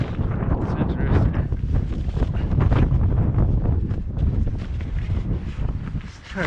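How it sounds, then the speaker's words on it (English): Strong wind buffets the microphone outdoors, a loud continuous low rumble with gusting surges across the whole stretch. "Hopefully that wind's not too loud."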